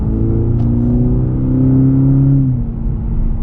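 A 2021 Cadillac CT4-V's turbocharged 4-cylinder engine revs loudly and steadily, its pitch climbing and holding before dropping off near the end, with a rumbling exhaust drone throughout.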